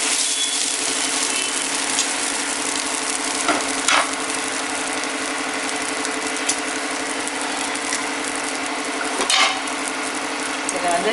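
Egg poured straight over dosa batter on a hot pan for an egg roast dosa sizzles steadily with a low underlying hum and a couple of brief scraping accents, close and continuous.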